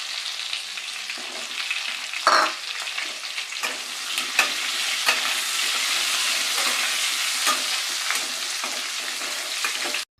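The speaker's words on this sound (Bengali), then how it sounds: "এবার আমি এই তেলের মধ্যেই ভেজে নেব কেটে রাখা আলুগুলোকে" Cut potatoes frying in oil left over from frying prawns, a dense continuous sizzle close up, broken by a few sharp stirring scrapes and clicks of a utensil against the pan, with no voices.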